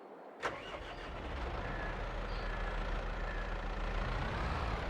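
A tractor in the Farming Simulator video game cranks with a sharp start, then its engine settles into a steady, loud idle that rumbles evenly and close by to the end.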